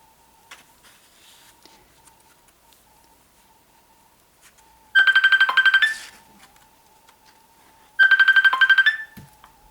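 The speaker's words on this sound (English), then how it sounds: "I should have turned off my phone before making this video." Mobile phone ringtone going off twice, each a loud trilling burst of about a second separated by a quiet gap, over a faint steady tone.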